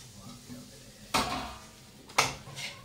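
A spoon stirs melted jaggery with poppy seeds and cardamom powder in a pan, with two sharp metallic scrapes and clanks against the pan over a quiet background.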